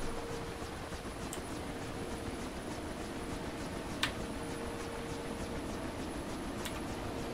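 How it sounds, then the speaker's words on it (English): Steady broadband rotor and engine drone of KA-50 attack helicopters hovering in a VR combat flight game, continuous and fairly even throughout, with one brief sharp click near the middle. "these KA-50s are hovering around"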